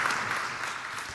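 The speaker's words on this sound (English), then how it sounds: "Please join me in a round of applause." Audience applause closing a session at a telecom industry conference, a short steady wash of clapping from a crowd, heard alone.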